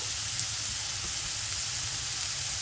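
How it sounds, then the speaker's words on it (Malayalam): Chopped green chili and ginger fry in hot oil in a pan for a Kerala-style fish curry, giving a steady, dense, close sizzle without pause and with no one speaking. "ഇതിലേക്ക് നമുക്ക് ഒരു ടീസ്പൂണ് പച്ചമുളകാണ് ഇട്ട് കൊടുക്കാം അതുപോലെ ഒരു ടീസ്പൂൺ ഇഞ്ചി ചെറുതായിട്ട് അരിഞ്ഞത്"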